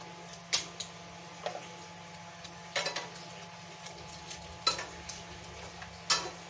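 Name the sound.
beating eggs in a bowl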